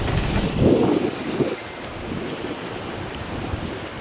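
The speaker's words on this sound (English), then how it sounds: "with a good 15 to 20 knots of breeze, and she's clipping along, even towing the dinghy" Sailboat clipping along in a 15 to 20 knot breeze while towing a dinghy, with gusty wind noise over the microphone and rushing water against the hull, steady and close, no voices.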